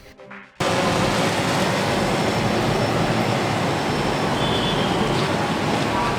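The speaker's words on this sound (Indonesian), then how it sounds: "didukung alat canggih seperti drone berikut ini" A flying camera drone's loud, continuous engine whine and rushing roar begins abruptly and holds steady, passing close.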